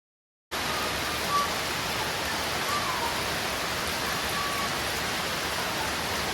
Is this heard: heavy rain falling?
yes